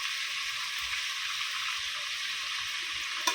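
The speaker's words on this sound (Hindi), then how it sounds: "ऐसा चिकन पूरा फ्राई करेंगे" Chicken frying in a steel kadhai makes a steady, even sizzle close by at moderate volume, with faint low bumps underneath and a brief clink at the end.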